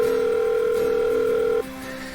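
A phone call rings out in the video game Doki Doki Blue Skies as a steady, clear electronic tone that holds for about a second and a half, then cuts off and leaves a softer hum.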